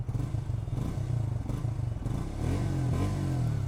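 A Triumph Speed T4 350cc single-cylinder motorcycle engine runs close by with a steady, loud exhaust throb that lifts slightly in pitch and fullness partway through, with no talking.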